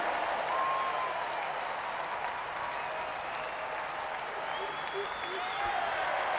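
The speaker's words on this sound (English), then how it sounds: "Even the crowd are giving the slow hand clap," A cricket crowd at a women's T20 match gives a slow hand clap while waiting for a decision, a dense, steady wash of applause that fills the whole stadium with faint whistles mixed in.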